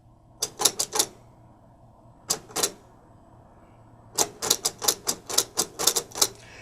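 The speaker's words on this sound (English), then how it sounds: "I'm now going to demonstrate how to write using a Braille Writer." Clattering keystrokes on a Perkins Braille writer, close and crisp, coming in bursts: a quick cluster, a short pair, then a longer rapid run of mechanical clacks with no talking.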